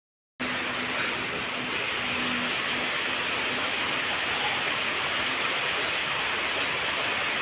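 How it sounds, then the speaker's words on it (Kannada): Rain starts suddenly during a family Gowri Ganesha festival gathering, producing a steady, even hiss of falling water that begins after a brief silence and continues unbroken to the end. "ಇದ್ದಕ್ಕಿದ್ದಂಗೆ ಮಳೆ ಕೂಡ ಸ್ಟಾರ್ಟ್ ಆಗೋ"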